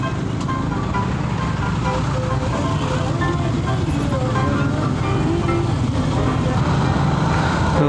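A congested street in Palembang near a market rumbles with continuous traffic noise of idling cars, trucks and buses, heard from inside a vehicle with people talking over it.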